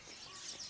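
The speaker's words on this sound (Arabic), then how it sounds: "صوت العصافير" Small birds chirp and tweet faintly in a steady outdoor background, with no voices.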